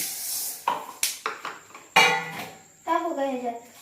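Moth bean dal dry roasting in a pan while being stirred, giving a series of close, sharp spoon clinks and scrapes against the metal, with a voice briefly heard.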